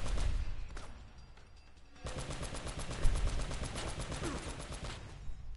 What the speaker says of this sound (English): And now you get to use the turret.